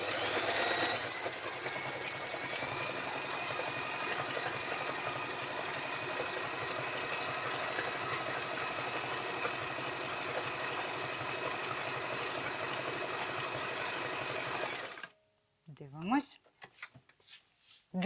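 A Family Hobby Line 39 sewing machine stitches continuously at an even, fast pace, a steady mechanical hum and rattle that stops abruptly near the end, followed by brief talking.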